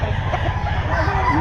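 A large rooster at an outdoor pet market crows and clucks nearby, the call rising over a dense, loud background of market crowd noise.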